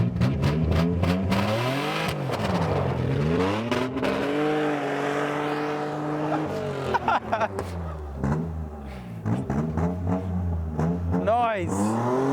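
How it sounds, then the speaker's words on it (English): A Nissan 300ZX doing burnouts in a driveway, its engine revving hard in repeated rising and falling sweeps, loud and close, with voices talking and shouting over the noise. "See if you can do some burnouts in the driveway."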